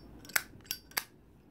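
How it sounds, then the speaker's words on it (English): A dragon-themed Zippo lighter lid flicks open and shut, three sharp metallic clicks spaced under half a second apart, close but quiet, with no talk. "it doesn't really sound like a traditional Zippo lighter"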